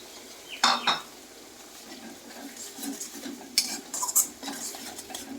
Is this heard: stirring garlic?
yes